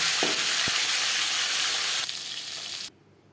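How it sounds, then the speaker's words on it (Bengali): A rohu fish head fries in hot oil, making a loud, dense, continuous sizzle close by with a couple of brief knocks, easing slightly before cutting off abruptly near the end. "পরের মাছ মাথা একইভাবে ভেজে নেব।"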